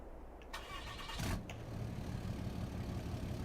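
A truck engine starting in the farming video game Farming Simulator 22: a couple of short mechanical clicks, then a brief cranking burst that settles into a low, steady idle rumble, heard alone without talk.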